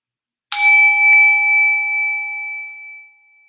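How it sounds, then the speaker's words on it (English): A single meditation bell is struck once after a moment of silence, ringing with a bright clear tone and a long, slowly fading sustain that lingers for about three seconds, alone and close. "I'm going to ring a bell, and when you hear it, just want you to settle down even more."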